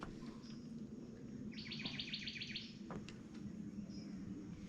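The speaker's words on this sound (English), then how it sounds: "A lot of the birds around." Wild birds call in Corkscrew Swamp Sanctuary near Naples, Florida: a rapid series of chirps and scattered short tweets at middle distance over a faint steady hum of insects, fairly quiet with no talk.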